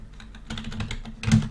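Fingers tap out a quick run of keystrokes on a computer keyboard, close and crisp, in an uneven patter ending with a slightly heavier press.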